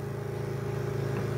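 A red Dynamark lawnmower engine runs at a steady idle, producing a close, even mechanical drone with a constant pulsing hum and no other sounds.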